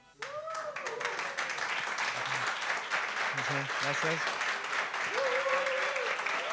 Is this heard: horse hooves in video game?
no